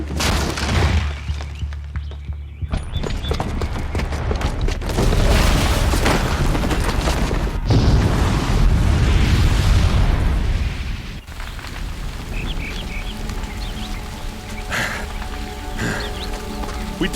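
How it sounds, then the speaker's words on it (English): Bomb explosion in the video game Horizon Zero Dawn, a loud deep boom with sustained rumbling and crackling debris, fading into lighter rattling and settling noise. "the booby trap on the bomb downstairs is gonna get set off"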